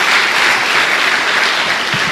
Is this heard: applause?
yes